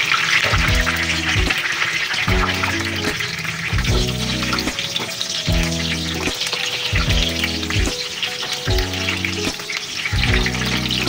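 Small eggplant pieces frying in a pan, giving a continuous close sizzle and crackle over about eleven seconds, with repeating background music underneath.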